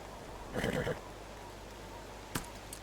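A horse in the video game Medieval Dynasty gives a short whinny at moderate volume, followed by a brief thump and quiet game ambience.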